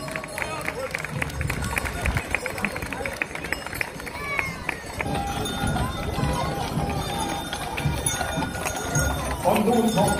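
Many horses' hooves clip-clop on pavement in a steady procession at the Cannstatter Volksfest parade in Stuttgart, Germany, with crowd noise and a loudspeaker voice over the top.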